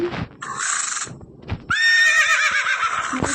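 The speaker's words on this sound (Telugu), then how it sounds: "ఇదైతే మనం పెంచుకున్న గుర్రం" A horse kept at a village home lets out a loud, close, quavering whinny lasting over a second, after a few shorter snorts and soft hoof clops.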